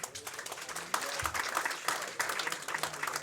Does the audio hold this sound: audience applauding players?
yes